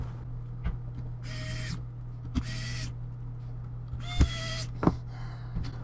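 Three small screws are being unscrewed from a laptop cooling fan with a screwdriver, giving a few soft scraping turns and scattered faint clicks, close up and with no talking.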